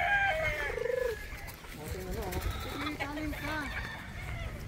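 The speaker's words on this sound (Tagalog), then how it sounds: "Napakadami pa talagang manok." Kanawayon chickens on a breeding farm cluck and crow close by, with a run of quick trilling clucks early on, then overlapping warbling calls and a crow rising over a steady low background.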